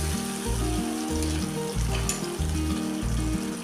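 Whole onions cooking in oil, a steady close sizzle under a loud rhythmic low hum from the stove or a nearby appliance. Nobody speaks.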